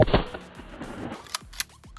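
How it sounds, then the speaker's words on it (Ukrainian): Shotgun loaded with steel-core slugs fired at armor plates, heard as a few sharp, loud reports spread across the moment, each a quick crack with a short ringing tail, no voices. "І зробив Дробашевич декілька пострілів"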